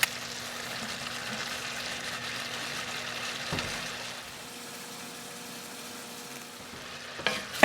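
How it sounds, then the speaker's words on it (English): Cabbage cooks in butter inside a Dutch oven, giving a steady low sizzle with occasional stirring scrapes and a brief clatter partway through, quieter in the second half. "Then add to the Dutch oven, season to taste, salt and pepper."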